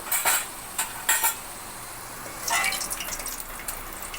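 Fried potatoes lifted out of a pan of hot oil with a metal utensil: a few sharp clinks and scrapes against the pan, then a softer, steady sizzle and rustle toward the end.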